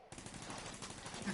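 Gunfire from The Division 2, a rapid automatic burst rattling on without a break for the whole moment, fairly close and dense.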